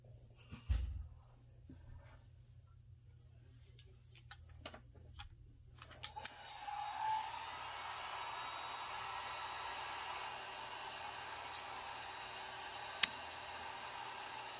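A hair dryer blowing over alcohol ink on a black surface starts up partway through and keeps up a steady, close whoosh, with a few faint ticks and clicks before and during it.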